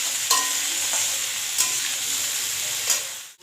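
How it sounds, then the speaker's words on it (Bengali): Potatoes sizzle steadily in hot fish oil alongside already-fried bitter gourd, with a few sharp stirring scrapes against the pan at intervals and no talking. "ভেজে নিচ্ছি আলুগুলোকে।"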